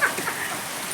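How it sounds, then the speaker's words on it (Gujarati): Steady rain falling, an even close hiss of drops on surfaces throughout a short moment with no voices. "વરસાદ તો ચાલુ થઈ ગયો છે"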